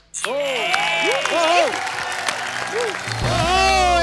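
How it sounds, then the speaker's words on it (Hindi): A studio audience on a Hindi comedy talk show breaks into loud, sustained applause and cheering. A lively band plays underneath, with a voice singing or calling over the top. "बार जस्सी बाजी के लिए जोरदार तालियां"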